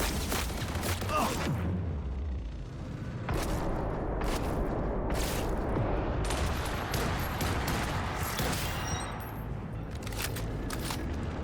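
A grenade explosion in Cyberpunk 2077 amid a firefight, a sharp blast among bursts of rapid gunfire and crackling cracks, moderately loud with a busy background.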